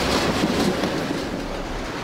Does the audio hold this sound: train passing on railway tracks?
yes